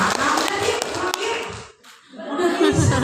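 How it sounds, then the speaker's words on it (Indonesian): Teachers at a PAUD (early childhood) teacher training session in Bangun Bandar, North Sumatra, give a dense round of applause. The applause fills the room loudly, breaks off briefly, then swells again. "Tepuk tangan dong buat kita"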